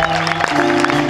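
Concert audience applauding at a live blues workshop show in Salmon Arm, a loud, steady wash of clapping and crowd noise with a sustained tone ringing underneath.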